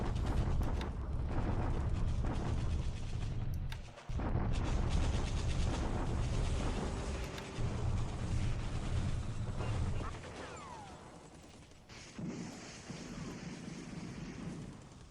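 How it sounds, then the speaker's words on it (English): Continuous rumbling artillery bombardment in the World War II strategy game War in the Pacific, a dense wall of booms and crackling blasts with brief lulls, loud throughout. "the daily Japanese bombardment nonsense at Changsha, so we'll just have to ride through this"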